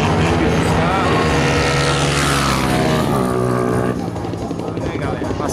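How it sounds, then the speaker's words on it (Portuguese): 150–160cc motorcycle engines roar past one after another at a drag racing event in Caruaru, loud and close, their pitch climbing and dropping as they speed by. "passando as motos aí"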